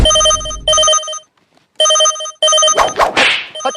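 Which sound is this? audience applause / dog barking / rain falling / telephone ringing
telephone ringing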